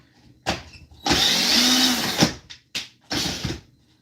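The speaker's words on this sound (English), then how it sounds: "this should turn on when I use the demonstration drill to spin the generator" A handheld demonstration drill spins a small generator in a series of whirring bursts: a short one, a long sustained run of about a second, then three more quick revs, loud and close with no talking.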